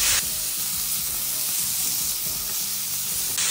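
Swordfish sizzles steadily in a nonstick pan with a thin film of oil and a browned garlic clove, giving a continuous close frying hiss with faint stirring underneath throughout.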